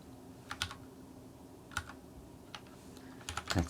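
Keys clatter on a computer keyboard in a few quiet, scattered bursts of clicks with short pauses between, ending in a quicker cluster of taps.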